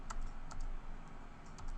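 Computer keyboard keys pressed in a few quick, separate taps over a low steady background hum while editing a clip.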